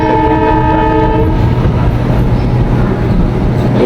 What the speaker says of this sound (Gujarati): ફાઇનલી આપણો ટ્રેન ઉપડી ગઈ